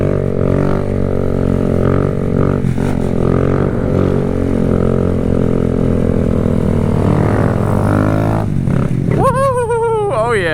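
Kawasaki Z motorcycle running with its exhaust baffle removed during a wheelie, a loud, steady close-up engine drone that climbs into a sharp rising rev near the end.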